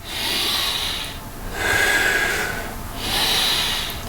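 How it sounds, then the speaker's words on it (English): Loud, close breathing from a person doing Pilates exercises, with three long airy breaths in a steady rhythm, each a breathy rush of air. "And I'm coordinating it with my breathing."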